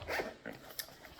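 A first aid kit pouch packed for a cruise is zipped shut with a quick close rasp, followed by a couple of softer ticks as the pull settles.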